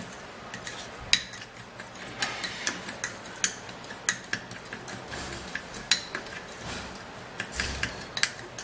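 A spoon clinks and scrapes against a bowl while a sugar mixture is stirred for a homemade eyebrow rub, a steady run of light rhythmic ticks close by with no talk.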